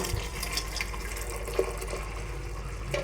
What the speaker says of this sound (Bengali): এখন কিন্তু আমি দুধটা ঢেলে দিব।